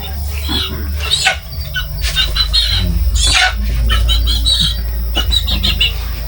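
Chickens squawk and cluck loudly up close during a ritual on Mount Kitanglad, with bursts of agitated calls over a low rumbling background.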